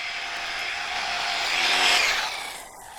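An RC car on a 6S battery pack launches on an acceleration run with its wheels spinning. A loud, close, high-pitched motor whine swells for about two seconds and then eases off, with no voices.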